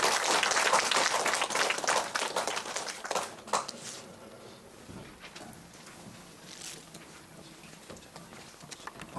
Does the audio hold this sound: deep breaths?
no